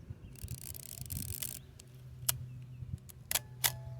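Konica Autoreflex T film camera, unloaded, being handled and its shutter released several times, giving sharp mechanical clicks and snaps amid softer rubbing and winding noises, close and fairly quiet.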